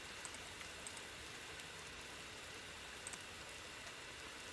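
Steady, faint rainfall in the survival game The Forest, a soft even hiss with light scattered droplet ticks and no talking.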